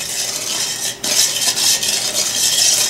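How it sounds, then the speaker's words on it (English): Sugar and melted butter are mixed in a bowl with a utensil, making close scraping and clinking strokes in an uneven rhythm with one brief pause. "And mix that up."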